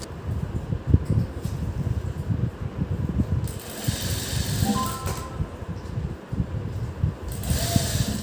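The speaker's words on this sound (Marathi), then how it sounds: "सुरुवातच चांगली करून घ्यायची आणि एकदम कडेने तुम्हाला शिलाई द्यायची आहे." A sewing machine stitches close along the edge of a blouse strip, giving a steady, busy mechanical chatter that runs near and fairly loud for the whole stretch with only slight changes in pace.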